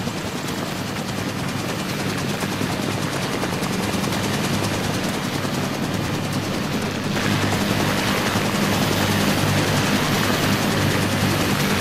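A helicopter in a live-streamed flight game, heard as a loud, continuous rotor and engine drone with steady low thumping that swells slightly midway through, with no talking.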